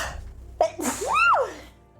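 A single sharp human sneeze bursts out close to the microphone, a quick intake followed by a loud explosive release and a trailing vocal tail, alone without talk.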